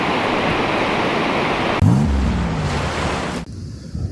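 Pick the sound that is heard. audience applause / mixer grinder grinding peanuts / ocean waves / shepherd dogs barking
ocean waves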